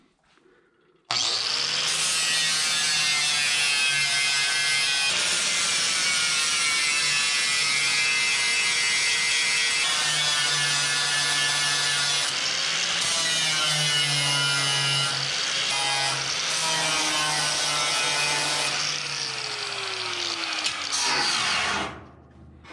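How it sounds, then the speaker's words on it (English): A grinder knocks down welds on the cowl panel of a classic Mustang. It gives a loud, steady metallic whine that runs almost without a break for about twenty seconds, with small shifts in pitch as the disc bites, then winds down. "So while I'm here, why not knock down some of these welds?"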